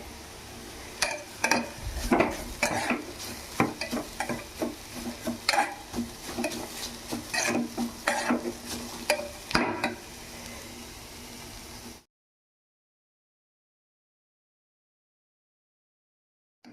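Carrots fry in ghee in a pan with a steady sizzle, while a spoon stirs and scrapes with clattering knocks for about twelve seconds before everything falls silent.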